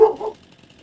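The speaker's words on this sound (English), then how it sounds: "the wife is home now, so the dogs are gonna go nuts" A dog on a farm lets out one or two quick, mid-loud barks close by, then falls silent.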